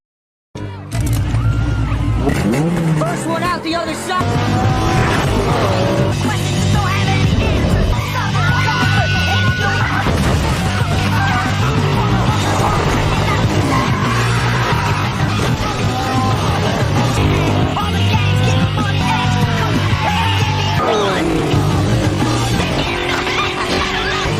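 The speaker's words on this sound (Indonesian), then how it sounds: "mobil si pemarah bernama Clay tertabrak karena ingin menjatuhkan Sean, sedangkan mobil Sean terbalik" Cars racing and crashing through an empty housing estate in the Tokyo Drift film: engine roars, impacts, tumbling metal and yelling piled into a dense, loud, chaotic mix.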